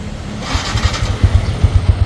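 A Yamaha Sniper 150cc motorcycle with a gear-shifting fault sputters and catches, then settles into a rough, pulsing idle with uneven low thumps, close by.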